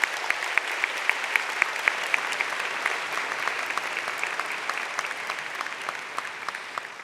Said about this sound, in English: Let's give a round of applause to our parents and caregivers with us today.